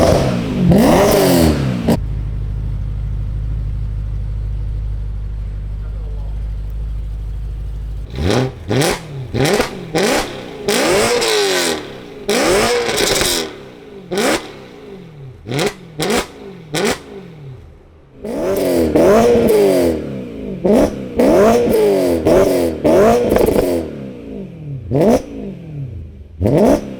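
A BMW E92 with an Akrapovic exhaust, new driveshaft and diff mounts, idles with a low steady rumble, then drives off in repeated hard revving bursts through the gears, loud and close, with brief lifts between pulls.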